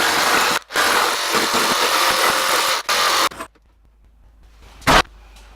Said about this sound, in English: Just wants a bit of shaving off here.